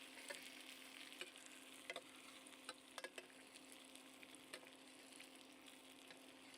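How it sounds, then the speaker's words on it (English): Smoked steak au poivre is basted with herb butter in a pan, giving a steady, soft sizzle with scattered light clicks from spooning the butter. "Try to keep all my herbs and everything in the mix of this butter to keep the flavors extracting. And I'm going to baste this like so."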